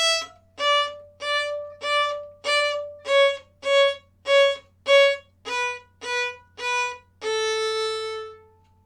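Bowed string instrument playing the final line of Song of the Wind, a dozen detached, evenly spaced bowed notes descending then ending on one longer held note, clear and close with no talk.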